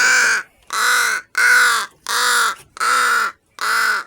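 Pet bird, crow-like, calling at feeding time: six loud, harsh caws in a steady rhythm, each about half a second long with short gaps between, very close and alone with no talk.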